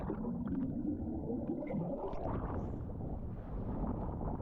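Strong wind buffets the microphone on a Crete beach, a loud, continuous low roar with gusty rumbling and no speech.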